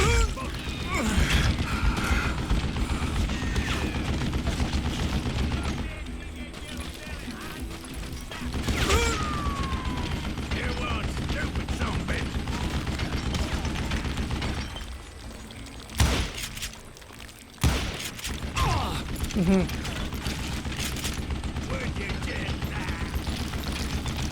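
A mounted gun fired by an old man in the Western shooter Call of Juarez: Gunslinger, heard as loud, sustained mechanical clatter and crashing bursts with brief pauses, over a dense continuous game soundscape.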